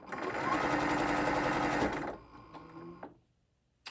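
A sewing machine runs loud and steady for about two seconds while sewing a puppy-dog tote bag, then slows to a softer whir and stops, leaving near silence.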